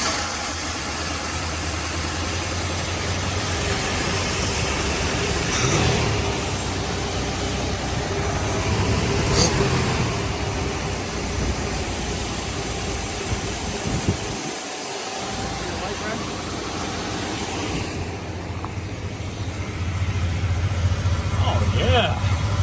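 A freshly rebuilt 351M V8 in a 1981 Ford F-350 pickup runs steadily at idle for its first start, a loud continuous engine drone that persists throughout.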